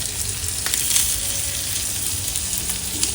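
Chicken roulade grilling in melted butter in a pan, giving a steady close sizzle and crackle throughout with a few light stirring clinks.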